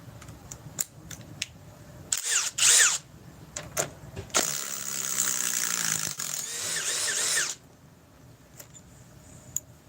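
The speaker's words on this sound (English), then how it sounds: "Let's go with the Ryobi." A Ryobi battery power drill whirs in short bursts and then one longer sustained run, close and fairly loud, with clicks and handling noises between runs.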